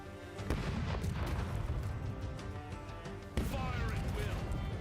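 Cannon fire in the strategy video game Songs of Conquest, two heavy booms roughly three seconds apart over a dense rumbling battle soundtrack, with a voice talking underneath.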